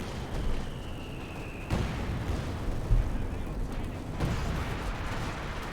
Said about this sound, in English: Aircraft taking some air fire there from German anti-aircraft guns.